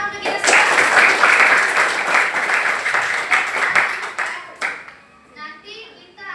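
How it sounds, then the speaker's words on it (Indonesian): A classroom of students in Indonesia claps together in loud, dense applause for several seconds, then it breaks off and children's voices take over. "Oke, tepuk tangan untuk kita semua."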